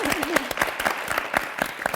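Brief burst of clapping from a group of people, including students, quick and fairly close, with a voice over it.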